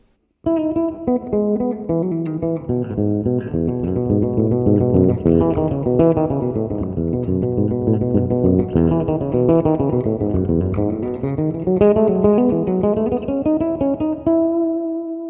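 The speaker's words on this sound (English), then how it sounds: "The section we're going to look at sounds like this." A solo bass guitar plays a flowing Bach partita with clear, ringing notes, steady and unaccompanied, with no talking.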